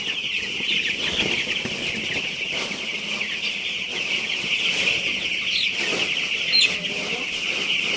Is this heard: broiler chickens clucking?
yes